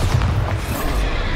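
A Bombarda blasting curse goes off in Hogwarts Legacy, a dense, rolling explosion with deep low rumble and scattered crackle sustained throughout the moment.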